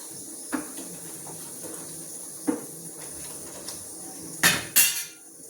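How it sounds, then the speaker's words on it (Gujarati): Dal being tempered in a home kitchen while tiffin is cooked: scattered clinks and taps of a metal pot and utensils, ending in two louder sizzling bursts close by. "હવે દાળનો વઘાર કરીશ"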